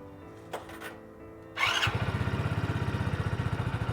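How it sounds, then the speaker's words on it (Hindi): Hero HF Deluxe motorcycle starting in a single attempt: after a quiet pause with a few faint clicks, a brief starter burst catches into a close, rapidly pulsing engine idle. "अब स्टार्ट करते हैं अपनी HF डीलक्स को।"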